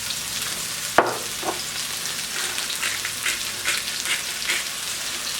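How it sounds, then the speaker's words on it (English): Tofu sautéing in oil in a pan gives a continuous close crackling sizzle, opened by one sharp clack of a utensil or pan and followed by faint stirring scrapes. "you're going to let these saute"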